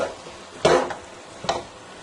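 Semolina halwa stirred and roasted in a pan, with two distinct scraping strokes against a soft sizzling background, close and moderately loud, no talking.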